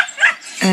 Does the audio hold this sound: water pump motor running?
no